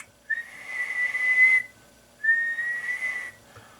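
Two sustained whistled tones, each about a second long, separated by a short pause, sounding thin and slightly compressed, whistled into the microphone of an Interceptor 101 radio.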